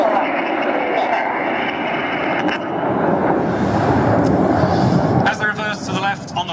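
Seven RAF Red Arrows Hawk jets sweep past at an airfield air show, their steady roaring jet drone lasting throughout while a commentator talks over a loudspeaker.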